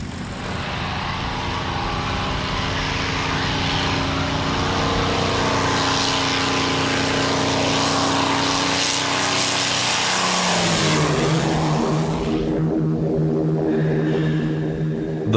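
P-51 Mustang fighter propeller engines roar loud and continuous, the drone shifting in pitch as the aircraft move, with a change in tone near the end.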